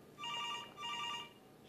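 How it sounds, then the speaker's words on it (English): A telephone rings in two electronic bursts, each about half a second long with a short gap between them, clear and fairly close. "until the phone rang again."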